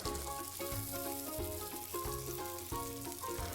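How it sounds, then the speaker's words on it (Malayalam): Chicken pieces for fried chicken biryani frying in a pan, a dense continuous sizzle largely covered by loud background music. "ചിക്കൻ പീസുകൾ മറ്റൊരു പാനിലേക്ക് മാറ്റി ഇരുഭാഗവും ഒന്ന് മുരിപ്പിച്ചെടുക്കാം"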